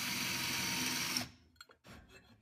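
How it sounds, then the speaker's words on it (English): A handheld power drill bores a hole for a cam on a table saw fence, whirring steadily and close for about a second, then stopping, followed by a few faint clicks and handling noises. "I just used a hand drill to drill it."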